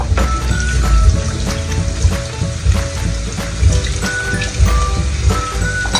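Water is sprinkled onto onions caramelizing in a hot pan, giving a loud, crackling sizzle with rapid pops and spits throughout.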